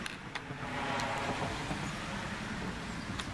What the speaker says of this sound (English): sorry for the background noise, I live on a busy street